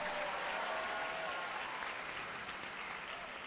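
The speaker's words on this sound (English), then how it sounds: "Let's give Datuk a round of applause, ladies and gentlemen" Conference audience applauding the guest of honor at a student leaders conference opening ceremony in Johor, a steady wash of clapping, fairly distant and uniform throughout.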